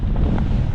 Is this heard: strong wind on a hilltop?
yes